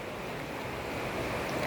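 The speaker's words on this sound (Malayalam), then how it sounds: "ഓ, വെള്ളം വരുന്ന വരവുണ്ടോ?" Muddy water rushes from an opened dam on the Souparnika river in a steady, dense roar with no breaks, heard from a distance and not very loud.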